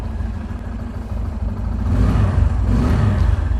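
A second-hand higher-cc motorcycle engine runs steadily nearby with a low, smooth rumble that swells slightly partway through, alone with no talk.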